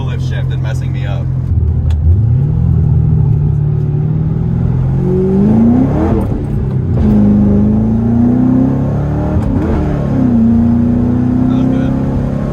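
A Ford Mustang with a no-lift-shift launch feature revs hard through the gears, the loud engine note climbing, cutting and rising again in close passes; a person talks over the engine.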